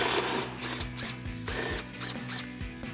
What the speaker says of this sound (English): we're going to remove these two 10mm screws on our lower support brackets with our 10mm socket